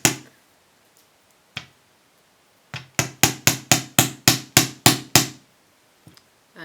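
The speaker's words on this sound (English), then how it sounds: "I'm also going to hammer the sides to toughen them." A few scattered taps, then a quick run of about ten sharp hammer strikes in even rhythm on the sides of a jewellery wire to work-harden it, followed by a couple of faint knocks. Close and crisp, no voices.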